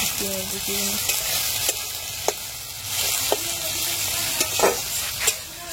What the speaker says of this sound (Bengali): এখানে বেগুনটা ভাজা করে নিচ্ছি